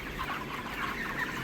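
A dense chorus of 31-day-old broiler chickens clucks steadily inside a farm shed at feeding time, many birds overlapping in a close, constant murmur.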